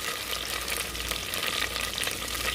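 Red onion frying in a pan along with chunks of tough meat, giving a steady, close, dense sizzle with a hint of stirring that holds evenly throughout, with no voices.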